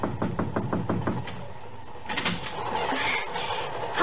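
A series of about seven quick knocks on a train drawing-room door, crisp and fairly close, followed by quieter rustling and shuffling movement with no talking.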